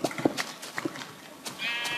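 Sheep in Minecraft beta 1.3 give short bleats, a few quick calls near the start and another around the middle, fairly close and moderately loud over quiet game ambience.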